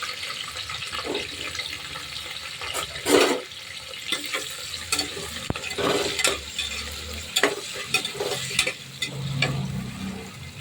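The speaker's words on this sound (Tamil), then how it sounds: "வெங்காயம் நல்லா வதங்கட்டும் ஃப்ரெண்ட்ஸ், வெயிட் பண்ணலாம்." Onions frying in oil for chicken biryani, the pan filling with steady sizzle while a spoon stirs and scrapes in irregular bursts, close and moderately loud throughout, with no voices.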